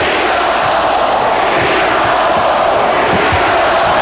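A basketball arena crowd of 19,000 at the 1993 NBA Western Conference Finals Game 7 roars and chants, a loud, dense, continuous wall of voices.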